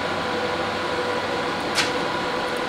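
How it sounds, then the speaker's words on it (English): Loud, steady hissing sizzle of hot metal during custom knife making, a dense unbroken rush of noise close by with one brief sharp flare partway through. "Whoa, listen to that sizzle."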